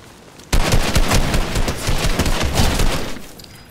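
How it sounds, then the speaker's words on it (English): Fortnite gunfire starts abruptly after a short quiet lead-in. A loud, close rapid-fire burst of shots with a fairly steady rhythm continues to the end. "I'm shooting at the damn bush guy because I'm nervous."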